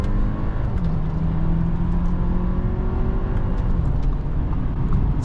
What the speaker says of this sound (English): we'll do some downshifts here.